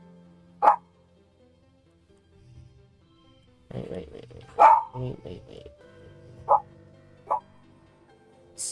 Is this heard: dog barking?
yes